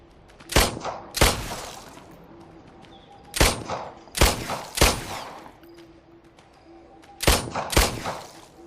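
Gunshots in the VR game The Brookhaven Experiment ring out as loud, sharp, separate cracks, mostly in pairs, spaced a second or two apart, each followed by a short echoing tail over a quiet background.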